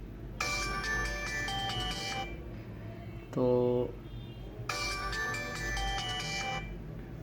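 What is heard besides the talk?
Tecno phone ringtone through loudspeaker, volume raised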